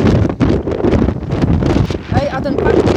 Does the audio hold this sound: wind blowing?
yes